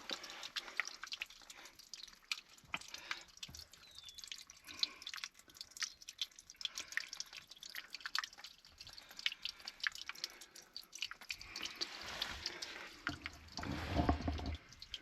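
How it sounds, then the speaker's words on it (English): Spring water drips out of the rock among grapevines in a Death Valley canyon, a quiet, irregular series of small close drips and trickles over faint outdoor background, with a louder splashy flow near the end. "to find surface water and water dripping out of the rock right here in the grapevines"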